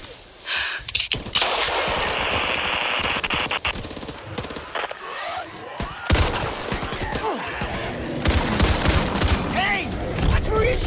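Sustained bursts of automatic gunfire and rapid shots in the co-op zombie shooter Back 4 Blood, loud and dense throughout, with shouting voices mixed in.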